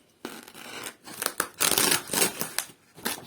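Scissors snip and slice through packing tape in several short bursts, close up, with brief pauses between cuts and a crinkly tearing texture.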